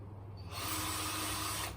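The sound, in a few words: drilling through a hose with a drill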